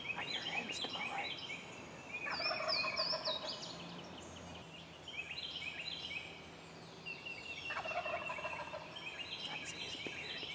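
A wild turkey gobbles hard in Tennessee woods, two loud rolling gobble bursts several seconds apart, with softer hen calls and bird chatter between them and no talking.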